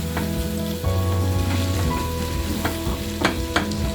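Chili and coriander powder mixture stirred and heated in a pan for potato roast, giving a steady close sizzle with a low hum, scraped by a spatula and punctuated by a few sharp knocks.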